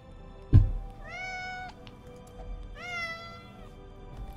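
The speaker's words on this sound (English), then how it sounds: "Okay, cat. You can't be standing on the computer." A domestic cat meows twice, each call a clear rising-falling tone about a second long, close by against quiet room noise after a single sharp bump.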